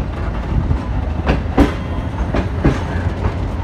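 A Millat Express passenger train hauled by a CRRC Tangshan locomotive rolls along, with a loud steady rumble and rhythmic clickety-clack of wheels over rail joints heard from on board.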